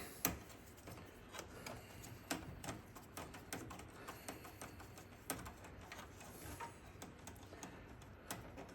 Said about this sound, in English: We're going to take out those 4 screws. It's a number 2 Phillips head screwdriver with a magnet.